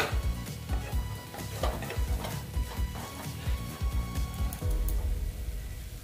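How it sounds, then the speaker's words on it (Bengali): Pointed gourd (potol) frying and being stirred in a pan, with rhythmic scraping and clinking of a spatula against the pan over a steady background sizzle, close and fairly loud with no talking. "এটা আমি ভালো মতন ভেজে নেব, মানে কষিয়ে নেব"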